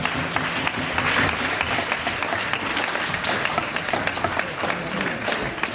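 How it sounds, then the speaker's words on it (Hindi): Competing teams at a Baitbazi poetry contest in Aurangabad stand and applaud themselves. The clapping is loud, steady and crowd-wide, with a faint murmur of voices beneath it and no break in the sound. "अब सब टीमें खड़े हो जाओ और अपने अपने लिए तालियां बजाओ।"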